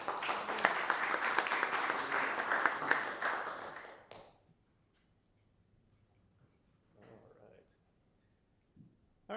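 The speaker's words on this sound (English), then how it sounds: "All right, round of applause for Mark." Audience applause for a speaker at a geotechnical visualization session, a burst of clapping for about four seconds that stops abruptly, followed by near silence with a few faint sounds and a brief voice.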